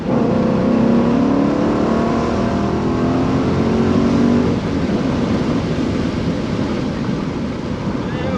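A 2012 Dodge Challenger SRT8 392 V8 with a six-speed manual drones and revs inside the moving car, with heavy wind and road rumble through an open window; accelerating in third gear, the pitch climbs then shifts midway.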